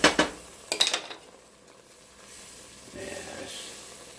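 Broccoli soup with homemade chicken broth being stirred in a pot on the stove, with a few sharp clinks of a utensil against the pot at the start, followed by a soft, steady sizzle and hiss.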